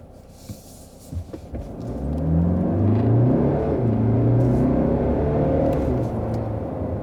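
A 2020 Mercedes GLC Coupé AMG Line engine in Sport+ mode rises from a low hum into a building, revving drone with climbing pitch as it accelerates uphill, heard close from inside the car.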